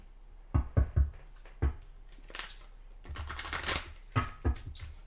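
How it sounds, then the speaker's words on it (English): Oracle cards from a tea-themed deck being shuffled: several sharp close taps and snaps, then a longer papery riffle followed by more quick card taps, over a low steady hum. "Giving the cards a shuffle for the little crabs."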